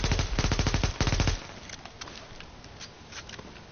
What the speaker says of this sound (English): Are we counting as rogues right now by shooting at them?